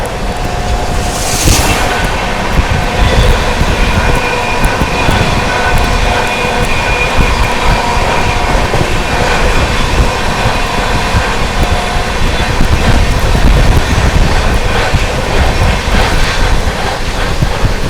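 The LTT–Jaynagar Pawan Express passes close by, a loud, continuous rumble and rattle of the train with steady wheel noise and a brief horn-like tone near the start.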